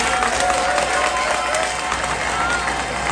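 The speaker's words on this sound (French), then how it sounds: "Applaudissez pour moi, s'il vous plaît." Crowd applause at a university graduation ceremony for licence graduates, a dense steady wash of clapping lasting throughout, with voices and cheering mixed in the background.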